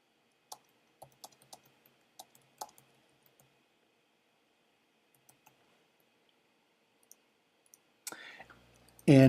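Quiet, scattered keyboard clicks tap out irregularly in a hushed room, followed by a brief louder burst of noise at the end.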